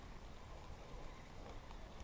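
Rain falls beside a river during a fishing trip, a faint, steady hiss of light rainfall with no voices.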